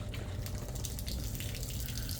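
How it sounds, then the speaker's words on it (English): Tap water runs steadily through a small under-sink water heater, a continuous close hiss of flowing water with no voices. "There's the water coming out."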